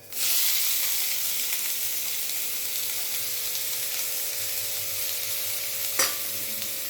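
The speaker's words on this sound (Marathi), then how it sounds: "तेल तापलं की आता आपण ह्याच्यात हे घालून परतून घेऊया" Bitter gourd dropped into hot oil and stir-fried, a loud, steady close sizzle that bursts in at once and hisses continuously, with a single brief clatter near the end.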